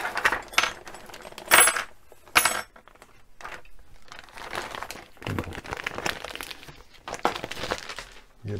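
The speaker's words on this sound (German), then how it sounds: "Wir befreien die Teile aus der Tüte" Crinkling plastic and clinking metal parts of a Unimog 406 model kit rustle in bursts at close range as they are unwrapped from a bag, with quiet gaps between handling sounds.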